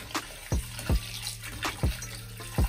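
Water rinsing a golf club grip under a tap, with a steady running stream broken by repeated splashy bursts and drips as the grip moves through the flow, close and without speech.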